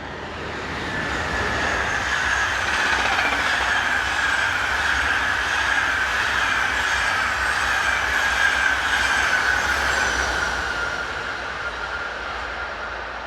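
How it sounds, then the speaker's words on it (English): A Class 18 electric train on the Ostend to Eupen service passes at steady speed, a sustained rumble of wheels on rail with a high wheel squeal rising and fading over several seconds. "Class 18, electric, number 1820, is on the rear of this, the 1044 from Ostend to Eupen"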